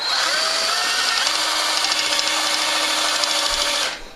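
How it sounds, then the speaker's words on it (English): Continuous high-pitched whine of a drill-mounted degassing wand stirring homemade wine to remove bubbles, spinning steadily for a few seconds, then winding down and stopping. "hit it with the drill and get all the bubbles out."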